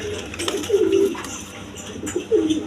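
Domestic breeding pigeons, an egg-laying pair kept for sale, give two low, rolling coos close by, with a short pause between them and no one talking.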